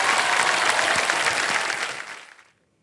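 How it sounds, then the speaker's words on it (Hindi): Studio audience applause on a Hindi TV quiz show set (KBC Season 16), a dense burst of clapping that holds steady, then fades out after about two seconds. "एक बार तालियां बज जाएं उनके लिए।"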